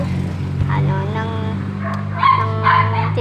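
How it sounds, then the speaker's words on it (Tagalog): A dog barks and yips in a Philippine street near a tricycle, several short bursts under a steady engine hum, loudest toward the end. "Super ingay ng aso, guys."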